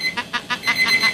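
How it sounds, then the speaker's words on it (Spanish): A morning alarm clock rings in a run of repeated bright beeping pulses, loud and close, steady and insistent, under a faint background. "7 de la mañana y suena esa tortura que es el despertador"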